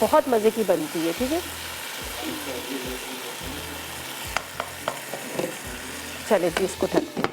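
Cooked spinach and boiled lentils are stirred together in a pot, giving repeated soft scraping and sloshing strokes with a faint sizzle beneath, while someone talks over them.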